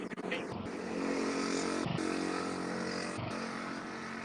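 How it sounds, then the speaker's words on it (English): A scooter or moped engine drones steadily past at moderate distance, a continuous motor hum with a few brief dips, no talk over it. "sound like somebody was on a scooter. Hello, moped"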